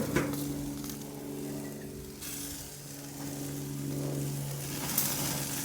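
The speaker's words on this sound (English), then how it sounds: "I'm going to double sear it on the other side now" Pineapple-marinated meat searing on a propane grill, a steady low sizzle with a faint background hum, a brief clatter near the start and a light tap toward the end.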